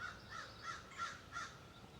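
Faint crows cawing in the distance outdoors, four or five calls spaced across a quiet background.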